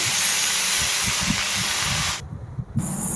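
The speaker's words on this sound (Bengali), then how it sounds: "তেলের মধ্যে পাঁচ ফোড়ন অল্প শুকনো লঙ্কা ভেজে তারপর দিয়ে দিচ্ছি কেটে রাখা শাকগুলো" Chopped leafy greens hit hot oil seasoned with panch phoron and dried red chilli, setting off a loud, steady sizzling hiss that cuts out for a moment, then bursts back.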